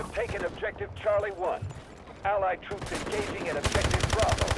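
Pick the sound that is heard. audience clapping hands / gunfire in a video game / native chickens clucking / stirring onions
gunfire in a video game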